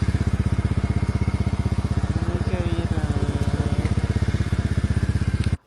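A motorcycle on a long ride near Siruma, Camarines Sur, its engine throbbing in a steady, rapid pulse close to the mic from start to finish before cutting off abruptly.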